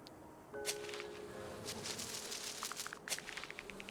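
Bees buzz around beehives placed among trees in the Terra Nil video game, faint and close, with short repeated buzzing bursts and small chimes over a quiet background.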